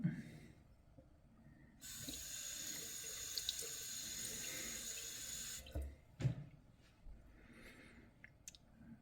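A tap runs water steadily for about four seconds while a straight razor is being honed, then cuts off, followed by a few soft clicks and handling knocks nearby.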